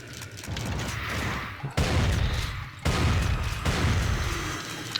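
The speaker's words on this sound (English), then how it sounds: "the Brutal Doom shotgun makes short work of lost souls" Shotgun blasts in Brutal Doom, a modded Doom video game, fired at lost souls: several loud booming shots at intervals over continuous game noise and mechanical clatter.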